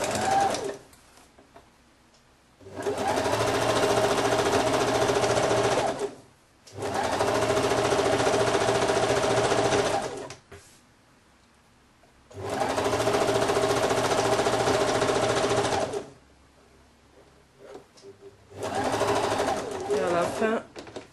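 A sewing machine stitches a seam on a woman's blouse with a Peter Pan collar, including backstitching, in four loud, steady bursts separated by short pauses, with a voice speaking in the gaps.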